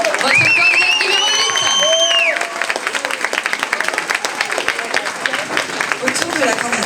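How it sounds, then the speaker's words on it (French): An audience at a Miss Yonne 2024 pageant bursts into loud, dense applause for a candidate, with cheering and a voice talking over it at first, then sustained rapid clapping continuing alone. "C'est parti, on l'applaudit bien fort."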